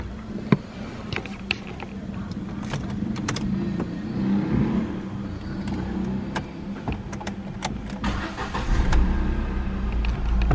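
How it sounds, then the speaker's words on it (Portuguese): A 2015 Ford Ka SE 1.0 Flex with manual gearbox has its engine cranked and started, then settles into a steady close idle hum with a few clicks over it. "Vamos entrar aqui e dar partida."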